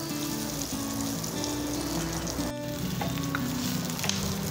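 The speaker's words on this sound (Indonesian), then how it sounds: "Kita tumis sampai bawang bombaynya layu" Chopped onions sauté in a hot pan for a meatball dish, giving a steady, close sizzle and crackle with a brief clatter midway and no talking.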